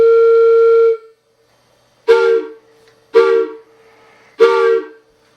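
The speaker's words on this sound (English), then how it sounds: "So now I have my D sharp, and my F sharp, and my A." A homemade three-chime boat whistle of tubes tuned to D sharp, F sharp and A sounds one long steady blast, then three shorter sharp toots, loud and close with no talk.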